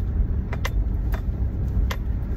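A car drives along a frozen, snow-covered residential street, with a steady low engine and road rumble inside the cabin and a few faint clicks and ticks over it.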